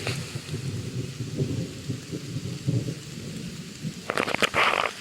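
Steady rain falls on a green hillside trail in a state park in Tennessee, with a low rolling rumble of thunder and a sharper crackling burst near the end, heard close and moderately loud.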